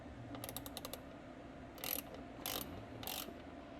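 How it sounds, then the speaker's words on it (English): A small 3/8 ratchet loosening a bolt on a Porsche 911 air box, giving a quick run of close, crisp clicks followed by three short separate bursts of ratcheting. "So this is the size, 3/8, and we have a little ratchet here. And yeah, let's take it off."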